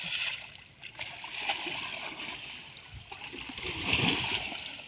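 Water splashing and trickling as an elephant is bathed outdoors, a steady wash of moderate splashes with a stronger surge near the end, with faint voices in the background.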